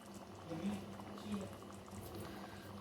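Lahori chickpea curry with green chillies and black pepper simmers in a pot with a quiet, soft bubbling, and faint low voice-like tones occasionally rise above it.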